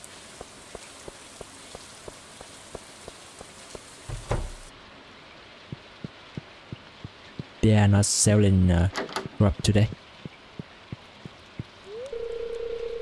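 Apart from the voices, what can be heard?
green rain falling in the video game Stardew Valley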